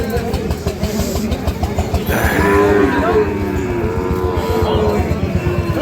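Sahiwal bull calves lowing at the Ambari cattle market, several drawn-out moos rising over a dense, busy crowd murmur and chatter close by.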